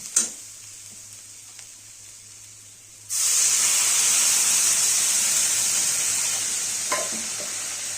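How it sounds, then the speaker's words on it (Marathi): Water poured into a hot pan while cooking misal bhaji, spiced with crushed peanuts, after a quiet start with a clink, then a sudden loud, steady hissing sizzle that carries on to the end, no talk. "टाकूया पाणी."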